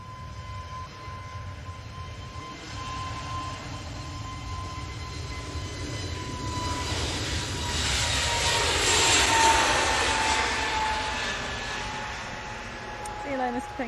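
Emirates Airbus A380 jet engines roar at an airport, a broad rumbling whine that swells to a peak and slowly fades, heard from a distance with a steady tone running through it.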